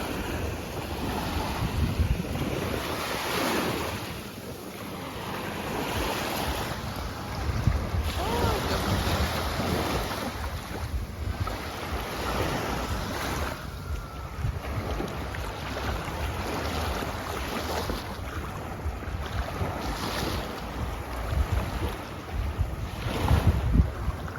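Black Sea surf washing steadily onto the shore at Olenevka, Crimea, heavily buffeted by gusting wind across the microphone.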